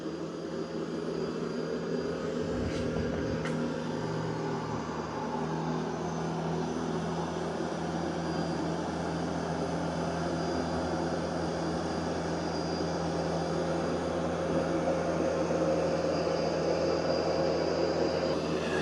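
A steady, droning whir with a low hum runs continuously, broadband and even in loudness, from an Ecovacs X11 Pro robot vacuum running at maximum suction close by.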